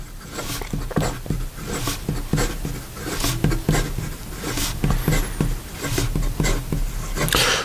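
A Visconti Torpedo fountain pen moves quickly across paper, a steady scratchy rustle of fast strokes with rhythmic ticks as the nib lifts and lands, close and continuous throughout.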